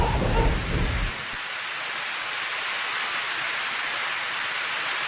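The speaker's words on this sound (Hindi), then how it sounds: "आसमान में बिजली कड़कती है और हल्की बारिश शुरू हो जाती है।" A loud rumble of thunder rolls out and fades within the first second, leaving a steady hiss of light rain falling.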